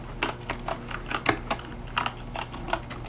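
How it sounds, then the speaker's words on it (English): Soft, close computer keyboard typing in a quiet library setting: a steady run of separate, evenly spaced key taps over a low hum, with no talking. "I'll type that one in."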